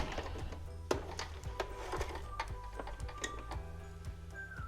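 Sewing machine stitching a quilt seam with a quick, even mechanical ticking rhythm and a few sharper clacks, fairly faint and close.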